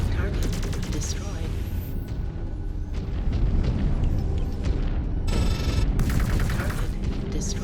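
Repeated laser fire from a mech's large pulse lasers in MechWarrior 5: Clans, a dense, continuous barrage of booming, crackling bursts with no letup, loud and close, mixed with game effects.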